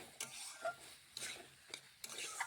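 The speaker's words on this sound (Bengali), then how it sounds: "খুরপি দিয়ে নাড়াচাড়া করে মিশিয়ে নিতে হচ্ছে" A spatula stirs potatoes and pointed gourd through spices in a pan, scraping in three or four distinct strokes over a soft, steady sizzle, close and fairly quiet.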